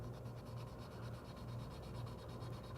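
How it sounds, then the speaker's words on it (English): Fine grit sandpaper rubs along the edges of a lathe-turned wooden tulip petal in quick, even back-and-forth strokes, soft and close. "so you can use your finer grit sandpaper"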